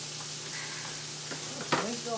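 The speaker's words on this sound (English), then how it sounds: "the trick to a good stir fry is a hot pan, continuous stirring, and you know, good oil." Hamburger stir fry sizzles in a hot pan with oil, a steady frying hiss throughout. A few brief clinks or stirring sounds come near the end.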